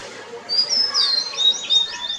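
A songbird sings a clear, high, warbling phrase of rising and falling whistled notes, close and fairly loud against a quiet background, with no voices.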